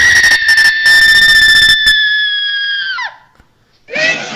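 A voice lets out a long, shrill, high-pitched scream imitating a WWE diva's shriek, held steady for a few seconds before it cracks and drops off, then a brief second burst.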